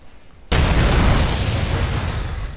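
A game explosion effect in GTA San Andreas with a modded fire effect: a loud, sudden broadband blast that hits after half a second of quiet and keeps roaring and rumbling without fading.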